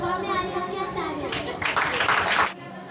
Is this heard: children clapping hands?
yes